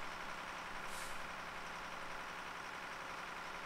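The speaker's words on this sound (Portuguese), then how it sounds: "Como é bom ter um caminhão, hein?" Truck engine running steadily in the Farming Simulator 2015 farming game, a constant broadband drone with a brief hiss of air brakes near the start, loud and even throughout with no talking.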